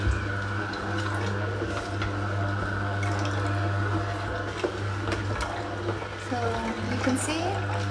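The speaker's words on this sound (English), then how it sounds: "turn on the machine. It's gonna be a little bit louder, the sound of the extraction" A juicer machine runs continuously while extracting fresh melon juice, a steady low motor hum with a mechanical whine, overlaid by intermittent clicks, knocks and liquid sounds.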